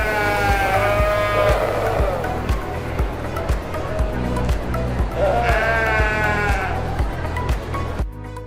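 Sheep at a livestock auction, where buyers bid on animals by weight, health and breed, let out two loud, wavering bleats several seconds apart over a busy, steady background murmur.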